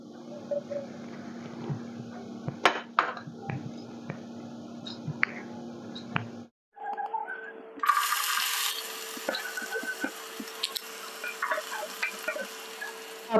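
Chopped onion fries in oil in a pan for drumstick (moringa) curry, giving a steady close sizzle with scattered stirring scrapes; the crackle grows brighter and louder partway through after a short pause.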